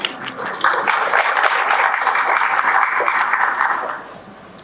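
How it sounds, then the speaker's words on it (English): A symposium audience applauds the Dean of an engineering school, steady broadband clapping sustained for about four seconds before tapering off, loud and close with no speech over it. "please join me in giving a resounding round of applause to Professor Dipali Vilmani Ma'am"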